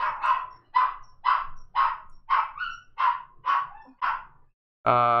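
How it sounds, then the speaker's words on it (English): A dog barks indoors at a steady pace, about eight sharp, fairly close barks in a row, then goes quiet before a brief burst of another sound. "Sorry, this is my dog."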